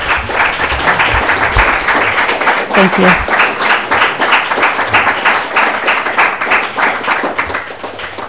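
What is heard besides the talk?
audience applause for someone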